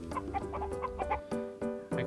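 A cartoonish hen clucks in Gwen the Hen 64, a video game: a string of short, bright, close clucks in an uneven rhythm, with a few longer squawks in between, sounding alone.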